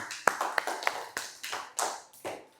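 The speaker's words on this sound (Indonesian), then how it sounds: "kasih aplaus buat Rizky." A small classroom group gives a short burst of quiet hand clapping for a student, a few sharp claps followed by a light scattered patter lasting a couple of seconds.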